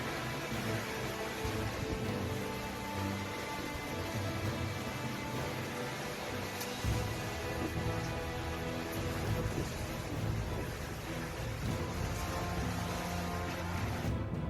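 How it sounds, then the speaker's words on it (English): Heavy rain from Super Typhoon Doksuri pours steadily over a city with gusting wind roaring over it, a dense continuous downpour with no letup. "Heavy rain and strong wind wiping off the city"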